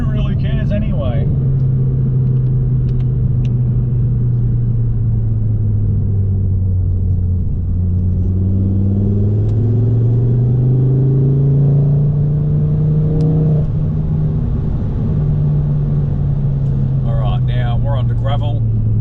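A motor bike ridden out along a rural gravel track, its engine a steady low drone that rises and falls in pitch as it moves, with a voice speaking briefly over it at the start and end.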